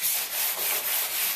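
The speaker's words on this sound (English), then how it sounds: "give the door surface a hit with the sanding sponge" A sanding sponge rubs back and forth across a door surface in interior painting prep, a close, loud raspy scrubbing repeated in about five even strokes.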